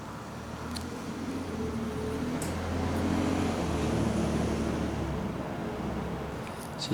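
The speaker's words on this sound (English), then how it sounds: "It's just a truck that went by." A truck rumbles past at a distance, its low engine drone swelling and then fading away over several seconds.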